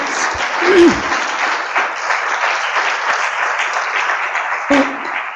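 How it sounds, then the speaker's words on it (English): Audience at a public meeting on drug development for inborn errors of metabolism applauds the parents, a steady mid-level wash of clapping from a crowd, with a couple of brief voice or mic sounds. "I would like to give a round of applause to all of the"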